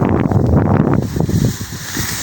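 Strong wind buffets the microphone steadily while a fishing net is cast outdoors, a rough broadband roar that eases slightly near the end.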